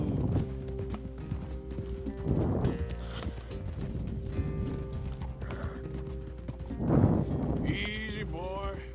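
A horse's hooves clip-clop steadily in the Red Dead Redemption 2 game, with faint tack and mechanical rattles and a voice speaking intermittently over the riding.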